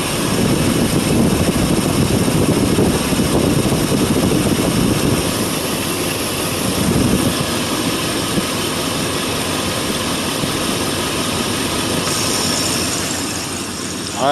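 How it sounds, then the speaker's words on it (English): A car engine idling with its AC compressor running, a steady, loud mechanical drone and whir that holds evenly throughout without talk. "so you can hear the compressor and the engine"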